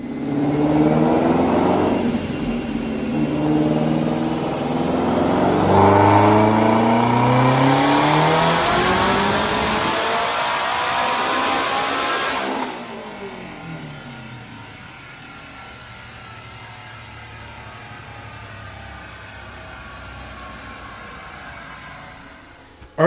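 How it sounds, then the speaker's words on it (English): A 2018 Mustang GT350 with a Hellion twin-turbo kit at 11 psi on E85 roars through a dyno pull, rising loud and strained for about twelve seconds before cutting off into a lower, fading idle rumble. "So we're going to watch this dyno pull on E85"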